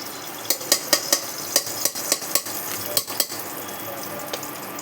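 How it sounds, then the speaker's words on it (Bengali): Gobardhan ghee goes into a hot pan, a soft sizzle beneath a run of sharp, regular metallic taps and clinks from a spoon against the pan. "এই হচ্ছে গোবর্ধন ঘি, অল্প একটু দিচ্ছি।"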